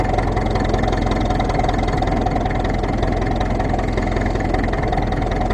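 A Ferguson TEF20 tractor engine running steadily while out for a drive over soft ground, a loud, close, constant low mechanical chug with no pauses or talk.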